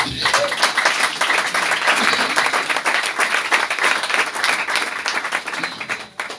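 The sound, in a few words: congregation applauding and cheering for the Lord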